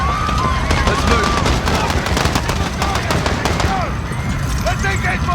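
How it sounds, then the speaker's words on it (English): Rapid automatic gunfire from a Call of Duty: Modern Warfare (2019) campaign firefight at Piccadilly Circus, dense bursts running continuously under game voices and sirens-like tones. "Shots fired."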